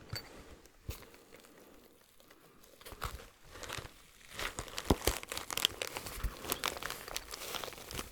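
Crinkly plastic rustling and crumpling of a treat pouch, with a few sharp crackles and scrapes, close up and continuous as it is handled.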